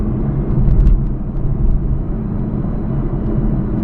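A 2017 Audi R8 V10 Plus cruises along a coastal road, a steady low engine and road rumble holding alone at moderate loudness.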